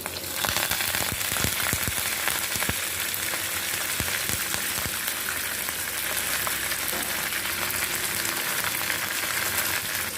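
Green chillies and curry leaves crackle in a hot oil tempering, a loud sputtering sizzle that stays dense and continuous, with several sharp pops early on.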